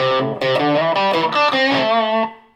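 Electric guitar through a Joyo US Dream distortion pedal, set slightly less driven than a Rat, playing a short run of sustained, harmonically rich overdriven notes that ring out and fade at the end.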